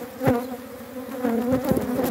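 Honeybees buzzing around an opened hive during a colony inspection, a steady droning hum with a few louder swells as bees pass close, no talking.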